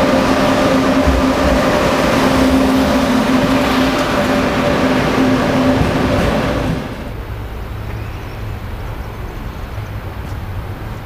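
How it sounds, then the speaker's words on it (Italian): A high-speed Frecciarossa train runs through a railway station with a loud, steady rumble and roar that holds for about seven seconds, then drops away to quieter station ambience. "Potete vedere arrivare dalla direzione sud"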